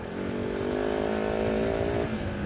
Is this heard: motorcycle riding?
yes